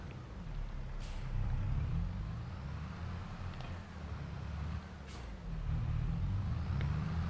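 A truck reverses toward a trailer in Farming Simulator 22, its diesel engine rumbling steadily throughout with two sharp hiss bursts like air brakes, and no talking.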